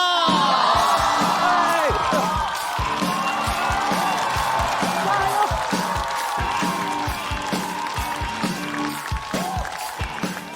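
A studio audience at a stand-up comedy show cheers, whoops and applauds to welcome a comedian onto the stage, with a loud crowd roar running continuously over a pulsing music beat.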